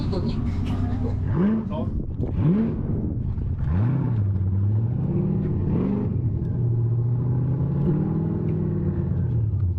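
A car engine idles and runs at a drag racing event at LS Fest West in Las Vegas. Its steady low rumble continues under nearly constant nearby talking.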